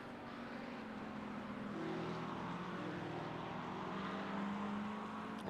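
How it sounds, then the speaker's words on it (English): A GT3 race car engine drones steadily at Spa in the iRacing sim during a 24-hour endurance race, a continuous loud roar with slight rises in pitch, no voices over it. "Racing around Spa in a GT3"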